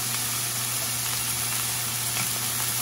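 Meat frying in a pan gives a steady, close sizzle that holds constant throughout, over a low background hum, with no voices.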